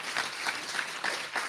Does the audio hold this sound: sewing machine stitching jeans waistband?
no